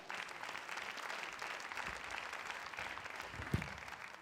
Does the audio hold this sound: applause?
yes